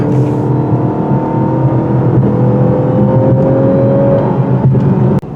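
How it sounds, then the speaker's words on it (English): A steady, loud engine drone hums from inside a 2024 Lexus LC 500h hybrid, a smooth synthetic exhaust tone played through the car speakers holding level and rising slightly, with a brief dropout near the end. "That exhaust sound being piped in through the speakers sounds okay in short term."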